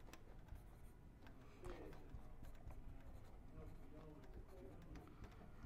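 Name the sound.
pen writing on a paper bracket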